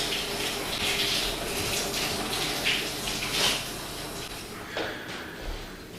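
Shower water runs steadily, a dense continuous hiss and splatter that stays close and fairly loud for several seconds, with no voices over it.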